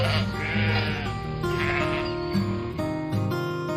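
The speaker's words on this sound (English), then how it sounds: "Sheep, sheep" Sheep bleat in a run of wavering, nasal cries over a backdrop of high tonal sounds, in a children's animal-naming lesson, loud and close.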